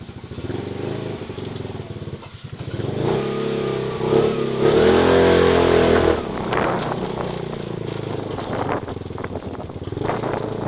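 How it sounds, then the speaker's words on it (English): A 150cc scooter engine runs and revs on a test ride, loud and close throughout, with a steady drone that rises in pitch as it accelerates around the middle and then settles back to a busy running note. "I'll go for a quick test ride while I got her running here"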